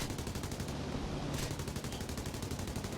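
Machine guns of an H-75 A-1 fighter firing in War Thunder, a fast, steady rattling stream of shots over engine noise, fairly quiet and continuous for several seconds.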